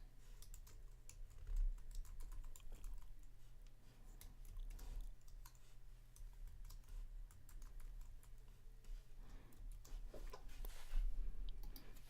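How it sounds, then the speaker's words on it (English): Rapid keystrokes clatter on a computer keyboard in an uneven, continuous patter over a low electrical hum, close by, with no voices. "I'm just going to return and keep typing in my words here"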